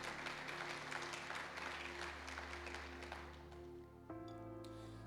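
Inside a church, the congregation claps together in steady, sustained applause that fills the room, then fades out as organ or keyboard tones continue underneath.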